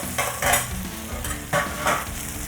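Short ribs sizzling and frying in a hot pot as they are layered back in bone side down, with steady crackle and rhythmic scraping bursts from stirring and moving the meat, no talk.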